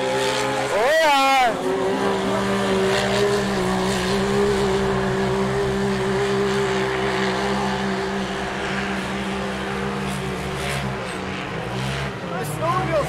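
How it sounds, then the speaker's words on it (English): Engines whine and drone as racing snowmobiles pass at a snowcross event in Chicopee, a sustained high motor tone with shifting pitch, loud and continuous, with a voice talking over it. "The snowmobiles sound like they're going faster, eh?"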